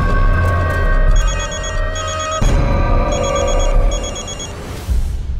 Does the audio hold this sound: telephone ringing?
yes